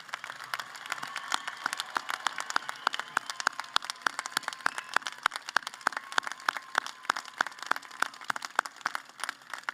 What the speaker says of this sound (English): give another round of applause to these special men and women for their service and their academic accomplishments